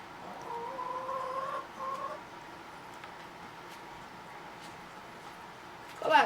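A chicken clucks in short drawn-out calls near the start and again at the end, faint and fairly close over quiet outdoor background.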